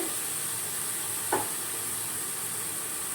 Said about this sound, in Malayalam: ഇത് എണ്ണയിലിട്ട് നന്നായിട്ടൊന്ന് ഫ്രൈ ആക്കി എടുക്കണം